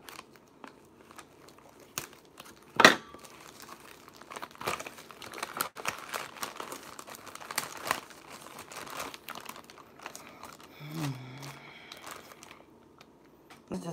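A tied plastic bag of Argo cornstarch crinkles as hands handle it, with irregular rustling crackles and one sharp, louder crunch early on, close and fairly quiet.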